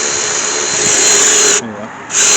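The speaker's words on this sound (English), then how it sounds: "I'm just going to do some power ratchets" A power ratchet whirs steadily on the top end of a Fiat 500 engine, a continuous high-pitched motor drone that briefly dips and changes tone before resuming, close and loud.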